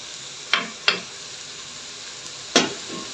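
Brief bursts of sizzling as ingredients hit hot oil in a cooking pot, three sharp hissing splashes that fade quickly over a quiet background, with no talking.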